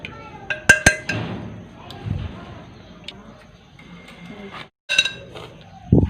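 A spoon clinks and scrapes against a pot while a meat stew is stirred, with several sharp metallic knocks and softer stirring sounds between them.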